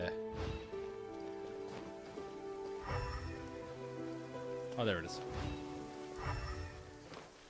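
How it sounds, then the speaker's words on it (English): Rain falling in the open-world video game Genshin Impact, a steady soft patter running throughout beneath game music, with someone talking over it. "Rain!"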